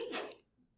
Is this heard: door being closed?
no